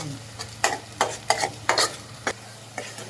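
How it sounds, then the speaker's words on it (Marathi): Onion paste for hotel-style chicken gravy sautéing in a pan, with several distinct spoon scrapes and stirs over a soft sizzle, close and without speech. "हे चांगलं व्यवस्थित परतून घ्यायचं आपल्याला"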